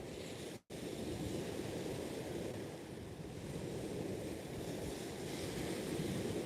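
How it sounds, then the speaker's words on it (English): Steady wind rushing at the seashore with surf rolling underneath during sea fishing, buffeting the microphone in a continuous, loud roar; one brief dropout near the start. "I didn't really expect it to be that windy"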